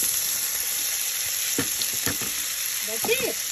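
Garlic and tofu sizzle steadily in a hot pan for a Bicolano-style dish, a constant bright frying hiss broken by a few scraping stirs and clinks near the end, close and alone.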